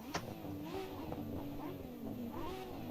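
A Nissan Skyline engine in the Assetto Corsa racing game revs several times in quick rising bursts, faint and distant against a low background rumble.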